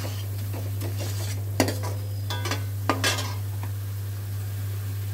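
Masala roasting in a pan with rock salt for a potato curry, a soft continuous sizzle under a steady mains hum, with a few distinct metallic scrapes and taps of a spoon stirring.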